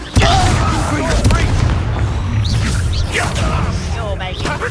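A Confringo blasting curse explodes in the PS5 game Hogwarts Legacy, a sudden loud boom at the start followed by crackling battle noise, whooshes and fighting voices.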